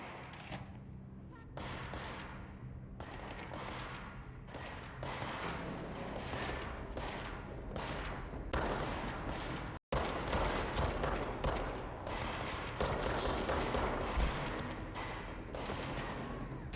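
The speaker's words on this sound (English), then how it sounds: "Why does it sound like gunshots?" Gunfire rattles in the video game Control, dense bursts of rapid shots and heavy thuds, loud and sustained with a sudden break midway before the barrage resumes.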